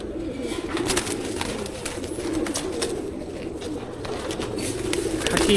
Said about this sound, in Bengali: এটা খাকি নর কবুতর না?